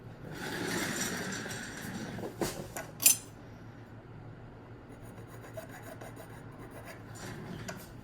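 A hand file rasps a groove into a bone guitar nut slot in short, quiet strokes, with a couple of sharper scrapes and clicks midway and a soft background hum.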